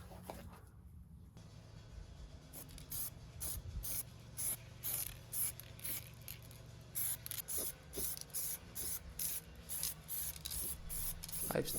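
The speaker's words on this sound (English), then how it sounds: "I've started with a layer of spray paint" Faint, repeated short hisses of an aerosol spray can as paint goes onto a primed John Deere LX188 mower deck, coming in quick rhythmic bursts that grow more frequent.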